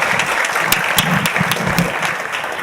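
Conference attendees applaud a keynote speaker on Python in medicine, a steady roomful of clapping hands lasting a few seconds at close, even loudness without speech.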